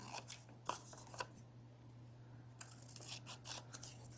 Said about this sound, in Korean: 가위로 자릅니다.